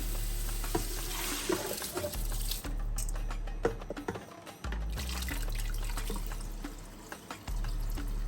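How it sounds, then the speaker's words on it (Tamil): Onions sautéing in a pot while being stirred for one-pot mandi rice, a steady sizzle with scraping and clinking of the spoon against the pot throughout, fairly close and without talk. "நல்லா மிக்ஸ் பண்ணுறேன் அனியன் கொஞ்சம் வதங்குறதுக்கு."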